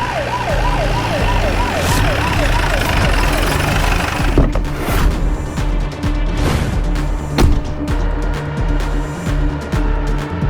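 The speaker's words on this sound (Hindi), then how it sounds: "इतना हंगामा मचा कि तभी वहां सबको एक पुलिस सायरन सुनाई दी" A police siren wails up and down loudly in close range, then gives way to traffic-like rumble and knocks, with a voice speaking over the scene.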